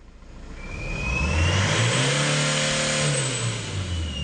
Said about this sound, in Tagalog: bigyan ng accelerator kung hanggang saan yung abutin nya